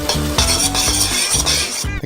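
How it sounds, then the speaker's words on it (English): A homemade candy mixture with white dye is stirred in a pot for giant Skittles, giving rhythmic, close scraping strokes against the metal, repeated about five times in quick succession with no voices. "Now we mix it up."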